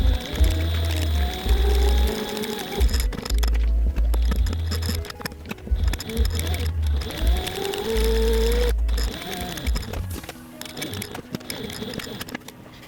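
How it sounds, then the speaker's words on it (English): A sewing machine stitches around the outer perimeter of a fabric zipper pocket rectangle, its motor whirring in steady bursts with short pauses between runs, moderately loud and close, with faint background sounds. "Now sew around the outer perimeter of the rectangle."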